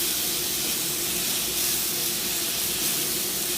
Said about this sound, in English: all I'm doing is just stir frying